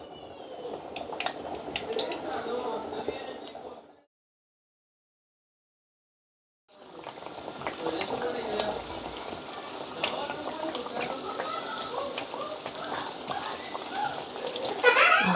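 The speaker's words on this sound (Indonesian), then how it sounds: "Kita goreng mendoannya sekarang." Tempeh mendoan frying in hot oil for a soto Bandung meal, a steady dense crackle and sizzle heard close up, cut by a few seconds of silence before the frying resumes with occasional louder pops.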